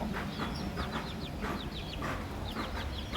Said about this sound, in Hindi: ये गोल्डन पफ मुर्गी है और इसने बच्चे दिए।